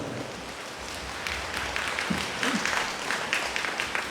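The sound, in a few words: congregation clapping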